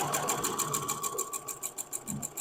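A sewing machine stitches a quilt block, its rapid needle clatter running steadily and close for the whole stretch with no talking.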